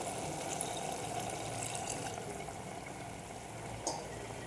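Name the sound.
water added to ridge gourd curry in pan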